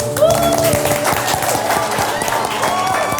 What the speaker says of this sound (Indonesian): Kita kasih tepuk tangan dulu buat